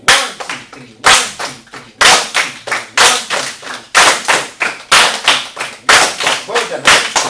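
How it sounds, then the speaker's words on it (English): Rhythmic hand clapping for a traditional Zimbabwean folk song, sharp and close, in steady groups of three with the first clap of each group louder, repeating evenly for the whole stretch. "So this is how we're going to clap. The first clap is supposed to be louder than the other two claps."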